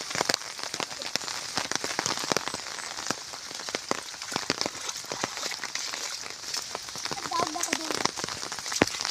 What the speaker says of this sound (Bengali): সারা দিন বৃষ্টি হবে আজকে